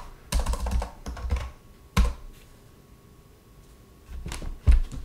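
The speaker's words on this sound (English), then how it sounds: "So let's connect the keyboard here" Keys on a PS/2 keyboard connected to a Tandy CoCo 3 computer are pressed in short bursts of clicky taps separated by pauses, close and fairly clear, with no talking.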